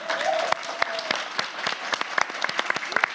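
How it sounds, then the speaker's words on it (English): An audience claps during a live farm broadcast from a dairy farm in County Wicklow, Ireland, the applause fairly close and thinning into separate claps, with faint voices under it. "Give yourselves a round of applause"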